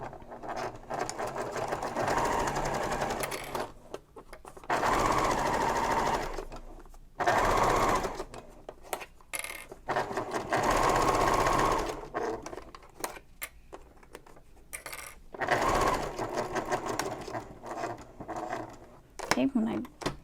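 A domestic sewing machine fitted with a zipper foot stitches a messenger bag, running in several steady whirring bursts separated by short pauses, with a voice talking in between.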